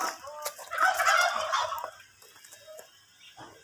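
A turkey on Samui, near a snake rescue where a chicken was killed, gives one burst of rapid, warbling gobbling at close range, then falls quiet amid faint background noise.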